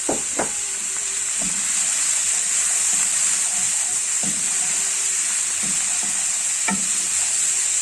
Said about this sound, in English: now we add the last lot of mushrooms.